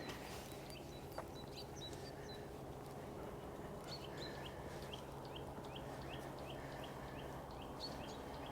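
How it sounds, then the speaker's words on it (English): Birds sing outdoors in Brienz, Switzerland, with faint, repeated chirps and short calls over a steady background hum and ambient noise. "You hear the birds?"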